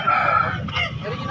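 Rooster crowing at a poultry market in Makassar, a single strained close crow lasting about half a second, followed by voices talking and general market bustle.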